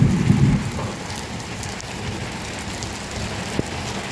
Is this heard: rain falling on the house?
yes